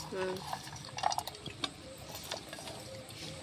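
Chicken rice is stirred in a cooking pot, with close scraping and clinking against the metal and a clatter of bursts over a steady background roar, while a voice talks faintly.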